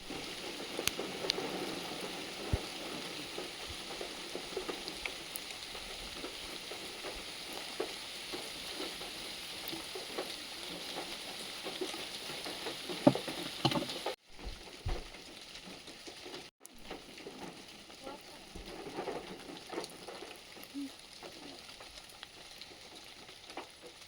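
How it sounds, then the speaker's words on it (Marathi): Continuous patter of monsoon rain on a car near Heduli waterfall, a dense, soft drumming that stays steady throughout, briefly cutting out twice. "पाऊस चालू आहे थोडासा म्हणून गाडीतच बसतोय"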